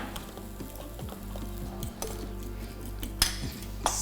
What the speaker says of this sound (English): grab a fork for this guacamole. I'm just going to force it down a little bit